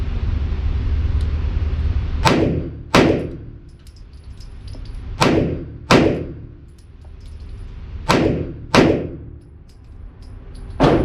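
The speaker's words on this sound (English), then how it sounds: "insert my finger in the trigger, and fire 2 controlled pairs" Pistol shots from a CZ P10S and an FN 503 fired as controlled pairs: three sharp, loud double cracks, each pair quickly spaced, ringing out outdoors with gaps of a couple of seconds between pairs over steady background wind.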